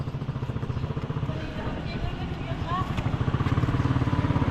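A small motorcycle engine idles nearby with a steady, even throbbing pulse, loud and continuous for the whole stretch.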